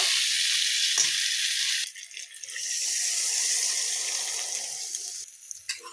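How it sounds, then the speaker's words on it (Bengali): Warm water is poured into a pan of cauliflower roast, a loud hissing sizzle that breaks off and then returns as a steady bubbling spit, close and without talk. "হালকা একটু গরম জল দেব"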